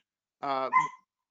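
A dog barks once, then a short whiny yelp follows, both quick and moderately loud against otherwise quiet surroundings.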